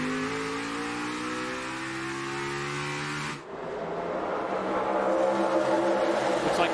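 NASCAR stock cars in the FireKeepers Casino 400 dive into turn one, a loud sustained engine roar with rising harmonic pitch that breaks at mid-clip into a dense, broadband wash of several cars passing close.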